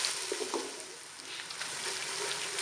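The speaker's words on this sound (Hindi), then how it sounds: "और साथ ही जीरा शामिल कर देंगे। थोड़ी देर भूनेंगे इसे।" Cumin seeds roasting in hot oil for chole, giving a continuous bright hiss and crackle of frying, steady and close with no one speaking.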